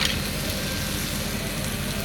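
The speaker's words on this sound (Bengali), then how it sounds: "কাঁকড়াটাকে আরেকটুখানি মশলার সাথে ভালো করে কষিয়ে নেবে" Crab frying with turmeric, cumin, coriander, chilli powder, salt and a little sugar in a pan, a loud dense sizzling roar that stays steady and close throughout.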